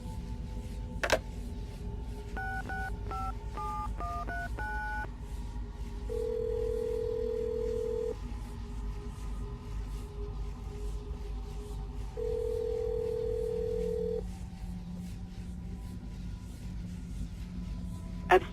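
Telephone dialing in the video game Assassin's Creed Brotherhood: a quick run of dial tones, then two long ringback tones separated by a pause, with a low background hum.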